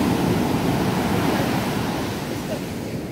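Ocean waves washing ashore at the seaside with high water, a loud continuous surf roar mixed with wind buffeting the microphone, easing slightly toward the end.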